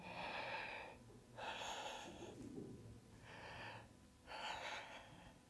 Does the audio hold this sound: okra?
no